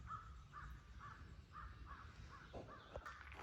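Crows cawing in a wooded park in Missouri, a string of about ten hoarse calls in a steady rhythm, moderately distant and fairly faint over a low outdoor rumble.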